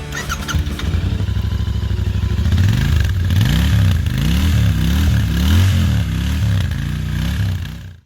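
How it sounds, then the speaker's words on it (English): A Royal Enfield Interceptor 650 twin-cylinder motorcycle starts and idles, then is revved repeatedly in rising and falling sweeps, loud and close with a clattery mechanical edge, no talking. "Now let's hear the sound of the bike and see how it feels."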